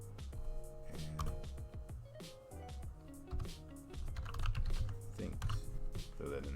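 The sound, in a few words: typing a name on a computer keyboard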